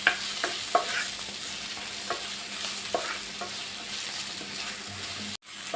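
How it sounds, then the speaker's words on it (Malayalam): Kerala-style onion curry with curry leaves sizzles in a pan while a spoon stirs it, giving a steady frying hiss broken by repeated knocks and scrapes against the pan. "ഇനി ഇതിലേക്ക് 2 തണ്ട് കരിവേപ്പില ഇട്ട് കൊടുക്കുന്നുണ്ട്. നന്നായിട്ട് ഇളക്കി കൊടുക്കാം."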